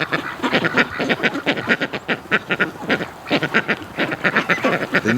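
Pekin and Rouen ducks quacking in a loud, dense chorus of rapid overlapping quacks, close by and continuous throughout.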